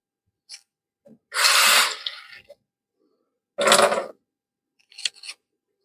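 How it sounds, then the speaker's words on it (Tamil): Half a tumbler of water is poured into a pot to make tea, heard as a few short, separate splashing pours, close by, with silent gaps between them. "நம்ம வந்து ஒரு ஹாஃப் டம்ளர் தண்ணியை ஊற்றுவோம்"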